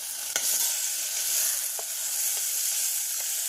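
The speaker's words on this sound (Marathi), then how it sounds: "आता हे वाटलेला मसाला आहे ना तो त्याच्यात टाकते." Ground spice paste hits hot oil with reddened garlic in a pan, setting off a close, loud, steady sizzle with a few scraping stirs and clicks, with no talk.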